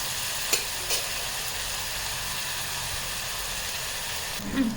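Tomatoes frying for paneer bhurji in a pan, stirred now and then: a steady soft sizzle runs throughout, with a few brief scraping stirs near the start and a louder clatter at the end, no talk.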